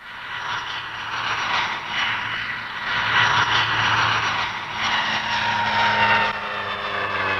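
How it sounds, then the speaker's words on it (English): A turboprop airliner powered by two Rolls-Royce Dart engines passes at a 1960s Farnborough airshow, producing a loud sustained droning whine with a steady hum that swells and eases over several seconds. "Powered by 2 Rolls-Royce Dart engines, it cruises at 280 miles an hour and seats 52 passengers."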